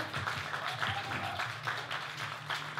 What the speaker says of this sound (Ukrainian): Оплески, дякую вам, дівчата.